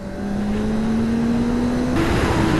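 A 2024 Kawasaki Ninja ZX-4RR motorcycle engine revs hard in third gear, its pitch climbing steadily before a quick gear change and renewed acceleration, loud and close with wind rush behind it.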